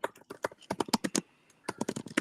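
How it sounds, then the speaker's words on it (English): Someone types quickly on a computer keyboard during an online meeting, sending out bursts of sharp, close key clicks with a short pause midway. No one speaks. "somebody's typing a lot"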